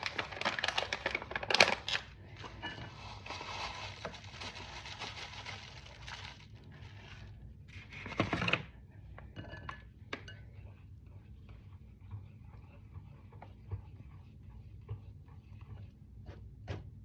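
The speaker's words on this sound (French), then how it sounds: "vous mélangez les 125 g" Almond powder being stirred into a mixture in a home kitchen, faint scraping and clinking of a utensil against a bowl with a few louder knocks early on, then soft intermittent stirring ticks.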